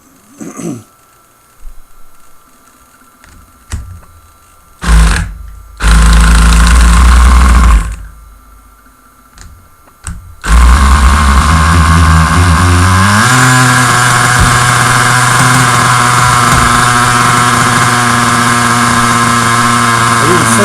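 A nitro RC engine with clutch-held rotor blades gives several short cranking bursts, then catches and runs loud and steady, its pitch climbing as it revs and holds close by.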